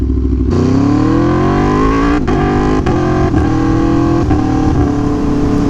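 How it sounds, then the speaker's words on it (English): A loud Aprilia Tuono V4 Factory motorcycle engine revving high on a race track, pitch climbing steadily, with quick sharp auto-blipper blips between gear shifts, close and continuous. "using the auto blipper a lot at high RPM, because we love hearing that."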